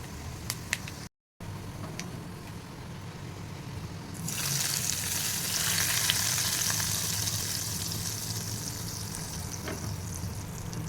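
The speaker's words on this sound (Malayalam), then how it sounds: "അപ്പം ഞാനത് നന്നായിട്ട് ഫ്രൈ ആയിട്ടുണ്ട്. അതൊക്കെ നമ്മളുടെ കറിക്കകത്തിലേക്ക് ഒഴിച്ച് കൊടുക്കുവാണ്." Fried dried-prawn tempering is poured into a curry of mango, drumstick, jackfruit seeds and potato, setting off a loud, steady sizzle that bursts in partway through and keeps hissing to the end after a quieter stretch of faint clinks.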